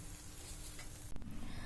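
An aloo paratha sizzles on a hot tawa with a steady, close, crackling hiss, and a short sharp clatter of utensils comes near the end.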